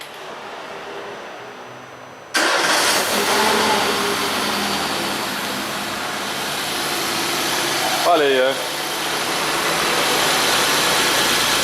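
A 1.4 8v car engine cranks and catches around two seconds in, then settles into a steady, stable idle close by, with a brief voice speaking over it near the end.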